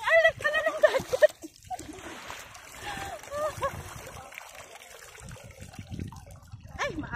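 Seawater scooped and poured with a dipper while bathing at the beach, several short splashes and trickles mixed with frequent talking nearby.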